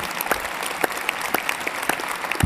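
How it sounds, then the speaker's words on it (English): Convocation audience at an Algonquin College ceremony clapping, dense and steady applause from a large crowd that lasts a couple of seconds. "yeah, we can clap for that"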